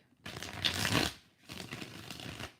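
Tarot cards are shuffled in two long riffling passes, each a dense papery rustle lasting about a second, close to the microphone with no talking.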